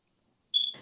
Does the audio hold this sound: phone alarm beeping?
yes